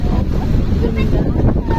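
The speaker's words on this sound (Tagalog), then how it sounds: "Ang ganda ng alon. Ang laki." Large ocean waves roll and crash at a Bicol beach resort, loud and close, with heavy wind buffeting the microphone.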